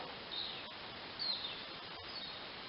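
Faint, high bird chirps come and go over a soft outdoor hiss, distant and sparse.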